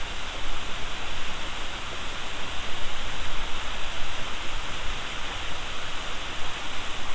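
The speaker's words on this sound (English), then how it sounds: "Yeah, these waves they're just getting bigger now." Wind-driven waves wash steadily against a canoe on a glacier lake in Alaska, a continuous, even rushing of water with no voices.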